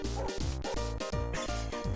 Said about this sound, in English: Barking along to the theme song.